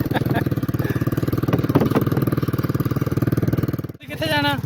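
A small 70 cc vehicle engine runs steadily close by, a rhythmic mid-pitched putter that dips briefly near the end before resuming, with voices talking over it.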